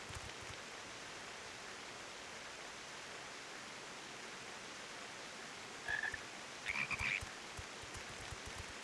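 Toads croaking in the video game Final Fantasy XIV: two short croaks stand out over a quiet, steady hiss of ambient background noise.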